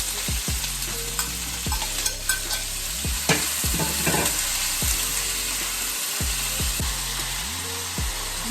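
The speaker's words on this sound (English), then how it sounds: "So I'm heating my oil and I'll be going in with my chopped veggies." Chopped vegetables sauté in hot oil for Jamaican ackee with smoked herring. A steady sizzle runs throughout, broken by repeated spoon taps and scraping stirs against the pan, with no talking heard.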